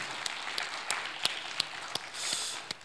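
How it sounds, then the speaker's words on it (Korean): Congregation at a Korean church Sunday service applauding to welcome a visiting missionary, a steady wash of clapping with a few sharper claps standing out, fairly faint and even throughout. "우리 마음을 담은 박수로 크게 환영하면 좋겠습니다."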